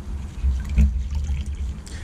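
A microfiber towel rinsed under hot tap water, with close, low gurgling and splashing of water running and dripping through the cloth for a couple of seconds.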